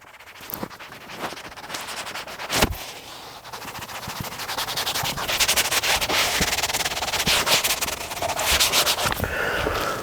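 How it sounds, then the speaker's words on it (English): Rag wiping and buffing plastic trim restorer off a car bumper, a steady close scrubbing rasp running throughout with a few sharper knocks near the start. "We're gonna kind of start wiping this off or buffing it off."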